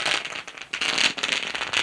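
A string of firecrackers bursts in rapid crackling clusters at a 40+ cricket tournament event in Navi Mumbai, set off to honour an arriving guest at the main stage, loud and continuous with brief gaps.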